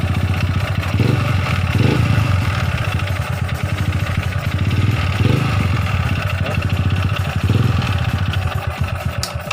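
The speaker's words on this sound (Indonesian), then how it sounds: "Oke, motornya udah hidup, starternya pun sudah nyala." A motorcycle engine, just brought to life with its electric starter, runs steadily at a close distance with an even, slightly clattery idle that holds throughout and has no talk over it.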